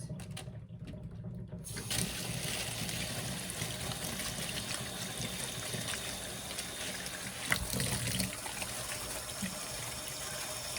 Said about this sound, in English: I'm going to lay it right here and I'm going to wash my hands.